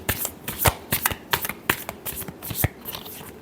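Tarot cards are shuffled close up in a quick, irregular run of crisp riffling slaps and flutters, with no talking.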